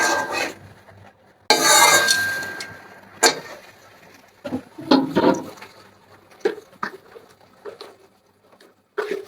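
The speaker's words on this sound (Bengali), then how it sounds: "ভালোভাবে এভাবে নাড়াচাড়া করে সরিষাটা মিশিয়ে নিতে হবে।" Beans and potatoes with mustard being stirred in a pan, a spoon scraping and clattering against the metal in irregular bursts of patter, with a louder scrape early on and quieter knocks after.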